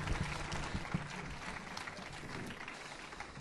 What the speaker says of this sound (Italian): Un grande applauso per lui, molto molto bravo.